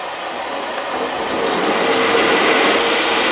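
A metal lathe turns at 580 rpm with a 1 mm feed as the cutting tool works the metal, giving a loud, continuous broadband whirring hiss that swells slightly over time, with no voices.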